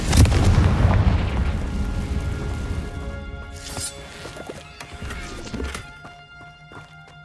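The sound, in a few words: Confringo blasting curse explosions in Hogwarts Legacy video game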